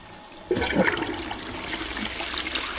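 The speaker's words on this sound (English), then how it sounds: "It says loads of bubbles coming out. So second flush." A toilet flushes with a Duck Fresh Boost Marine Wave cleaning-foam rimblock fitted, starting with a sudden rush and then settling into a steady, close gush of running water.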